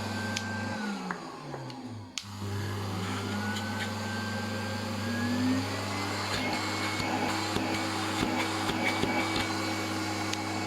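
A Podotronic Opus podiatry device handpiece runs with its suction on, giving a steady close whirring hum with a pitch that rises and falls briefly near the start, plus small clicks and knocks.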